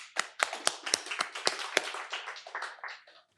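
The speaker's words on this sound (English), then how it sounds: "Big applause for you." Audience applause at a software conference talk, starting with sharp separate claps that thicken into steady clapping for about three seconds before fading out.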